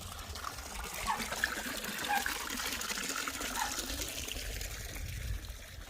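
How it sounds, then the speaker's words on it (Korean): Water from a mountain valley stream trickles and gushes steadily in winter, a soft continuous rush heard from a short distance, with no voices. "겨울에 저 정도 물수량이면 물 정말 많이 나오는 겁니다."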